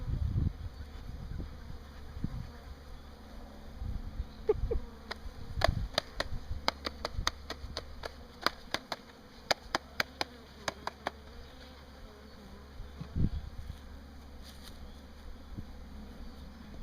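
Agitated honey bees, about three pounds from an opened hive, buzz in a continuous close drone, punctuated by rapid clicking and tapping of hive equipment, with no speech.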